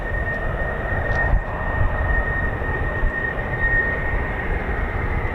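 An F-16 fighter jet flies over RAF Lakenheath as a continuous broad roar with a faint high whine, steady and moderately loud throughout, without speech.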